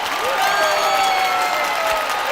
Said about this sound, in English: You gotta give Jerry White a hand clap